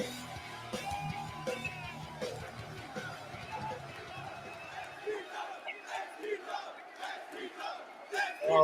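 Spectators at an XPW professional wrestling event chant and yell together in rhythmic bursts, fairly distant and steady, with a voice over them early on before the crowd takes over alone.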